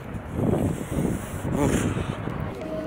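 Gusty wind buffets the microphone in a steady, rushing roar, with faint muffled voices underneath.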